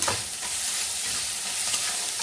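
Green chillies sizzle and fry in a pan with fried bori (lentil dumplings), a steady close crackling hiss with light stirring scrapes throughout.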